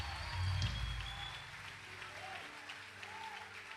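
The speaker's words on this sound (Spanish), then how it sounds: "Si ese aplauso es para Dios, debe ser más fuerte." A church congregation applauds during a Spanish-language worship service, a dense, fairly quiet patter of hand claps that swells briefly near the start and then carries on steadily for a few seconds with some murmur underneath.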